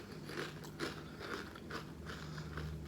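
Salt and vinegar kettle potato chips crunched in the mouth close to the mic, a steady run of rhythmic crisp bites and chews with faint low background hum.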